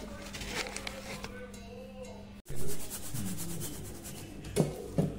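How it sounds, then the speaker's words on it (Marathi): Hands press and crumble lumps in a bowl of gram flour, making soft, close rubbing and scraping with a few knocks near the end, while someone talks over it. "आता याच्या हाताने अशा गाठी फोडून घ्यायच्या।"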